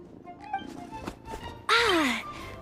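A single cat in Genshin Impact lets out a short, falling meow near the end, loud and close after a stretch of quiet rustles and soft thumps.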